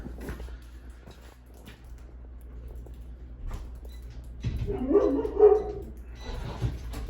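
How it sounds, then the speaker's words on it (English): Dog barking near a door in a snowy Sierra mountain setting, a few low woofs and whimpers early, then a louder burst of barks toward the end, with no talking over it. "We're gonna get the dogs out here real quick."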